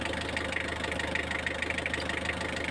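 Mitsubishi 4D56 diesel engine idling unevenly during injector checks, a steady low rumble with a faint irregular knock, heard close with no talking.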